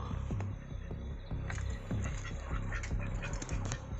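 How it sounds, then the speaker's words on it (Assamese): Several ducks quack repeatedly at close range in a pen, their calls overlapping with faint wet squelching sounds. "এইটো গঁৰালত আছে হাঁহ"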